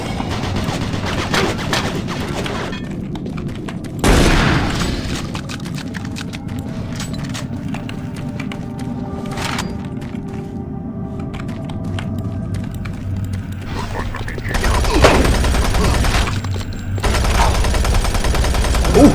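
Enemy shotgun fire in Doom 3 BFG, sharp loud blasts amid a busy game soundscape, with a heavier burst near the start and another cluster of shots toward the end.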